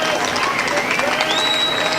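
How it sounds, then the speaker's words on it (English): Crowd at a Times Square rally in New York applauds and cheers, a steady wash of clapping with some whistles, fairly loud and continuous over a short stretch. "we deserve a big round of applause for that"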